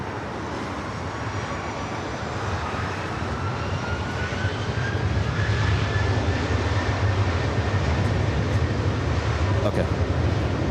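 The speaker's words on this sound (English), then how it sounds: "A777-300ER heading back to Taipei, heading up here for a north side takeoff." Boeing 777-300ER jet airliner at LAX airport, its engines giving a loud, steady roar that swells slightly and holds throughout, with a faint rising whine and voices over radio chatter.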